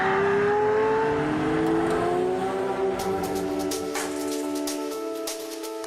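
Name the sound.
Pagani Zonda Cinque Roadster supercar engine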